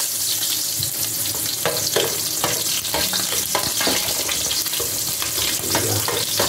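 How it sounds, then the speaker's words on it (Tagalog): Ginger sautéing in a pan for chicken tinola with bottle gourd: a loud, steady sizzle of frying with scraping stirs over it, close up and continuous. "ito, magigisa na po tayo. Uunahin po natin ng luya."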